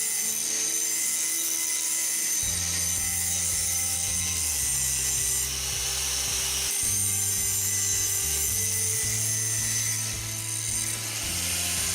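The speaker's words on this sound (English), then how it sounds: "I start first by grinding the bottom edge" An angle grinder works along the bottom edge of a brush hog blade, whining steadily and loudly with shifting pitch as it passes over the steel, with no speech.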